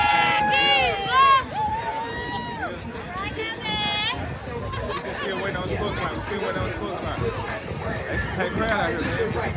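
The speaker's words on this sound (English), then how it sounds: "Hey, crowd out here, man." A crowd chatters in the stands at a 10u Friday night youth football game, a loud, busy babble with shouts and cheering, while someone talks over it close by.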